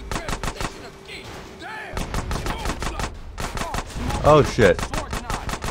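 Machine pistol fire in Grand Theft Auto San Andreas, a loud, rapid, continuous stream of shots lasting several seconds, with a brief pause and voices talking over the shooting.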